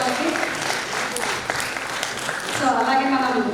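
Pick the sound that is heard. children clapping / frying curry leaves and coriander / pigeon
children clapping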